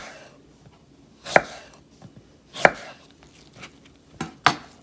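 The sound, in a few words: knife thinly slicing a Granny Smith apple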